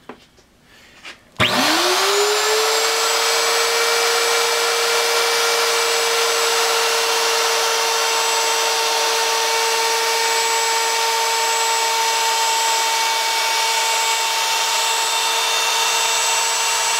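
A router lathe spins up and cuts wood, its motor rising quickly to a loud, steady high-pitched whine that holds for over fifteen seconds, close and uninterrupted, with no voices.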